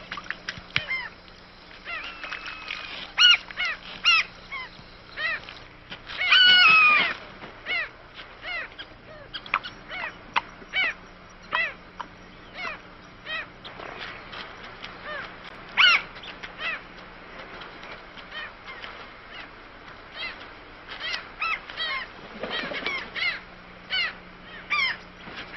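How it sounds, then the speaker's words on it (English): A flock of hungry birds feeding at shallow river channels in the dry season, with many overlapping harsh caws and honking calls, some near and loud, others farther off, repeating irregularly throughout. "The shallow channels provide a feast for a host of hungry birds."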